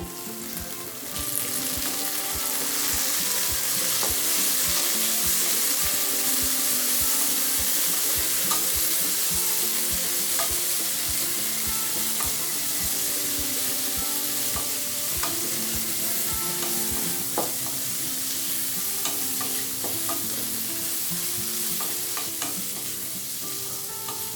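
Small onions and a handful of mint sizzle and fry steadily in a pan for onion-mint chutney, with occasional stirring clinks and scrapes over a constant crackling hiss.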